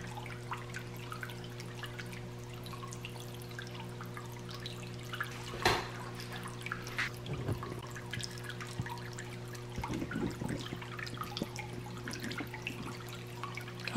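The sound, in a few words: Peaktop pedestal water fountain with orb trickling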